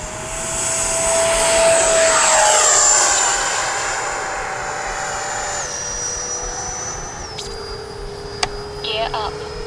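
FMS Futura 80mm electric ducted-fan RC jet on its takeoff run, a loud high-pitched turbine-like whine that swells, then shifts down in pitch as it moves away, with outdoor background noise throughout.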